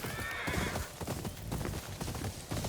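Horse hooves clip-clop steadily in the video game Ghost of Yotei, a continuous near rhythm of hoofbeats with a whinny early on, set against a busy game soundscape.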